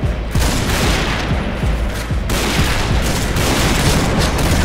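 Rapid, loud gunfire in the Point Blank shooter game, with PSG1 rifle fire among it, dense overlapping shots and booms cracking steadily without pause at close range.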